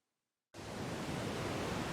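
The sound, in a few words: rough Atlantic Ocean waves breaking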